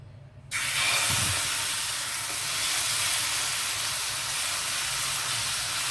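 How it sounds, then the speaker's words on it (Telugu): Ghee sizzles steadily on a hot pan while a sago (sabudana) dosa cooks, a bright continuous hiss that switches on abruptly after a brief quiet moment and holds at an even level throughout, with no voices. "అయితే నేను ఆయిల్కి బదులు నెయ్యి స్ప్రెడ్ చేస్తున్నానండి."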